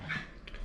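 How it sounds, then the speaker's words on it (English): Two dogs, a small one and a big one, playing loudly indoors: a very brief burst of close whining and growly yips, loud against a low background hum. "And you're gonna hear 2 dogs playing."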